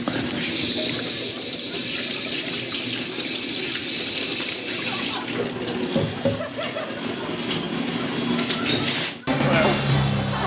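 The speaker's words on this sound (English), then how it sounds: "At least Matt washed his hands" Water runs steadily from a tap into a sink during handwashing, a continuous close gushing hiss that briefly cuts out near the end before resuming.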